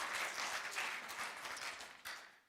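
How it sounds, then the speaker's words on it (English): A church congregation claps briefly, a soft, somewhat distant patter of hands that thins out and fades near the end. "You can applaud for the 60s."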